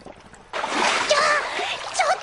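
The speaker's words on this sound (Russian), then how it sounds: "Я тут себе катапульту для прыжков в воду смастерил для жарких дней." Someone launched from a homemade catapult hits the water with a sudden loud splash that churns and spatters for over a second, with a voice briefly heard over it.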